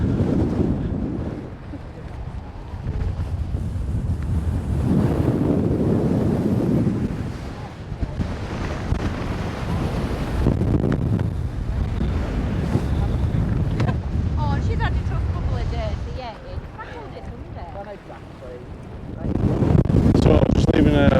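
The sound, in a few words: strong wind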